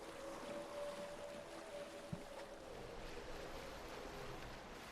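A boat sails across open water in Assassin's Creed Valhalla, a soft continuous wash of waves and wind with a faint low hum and one small knock, no talking.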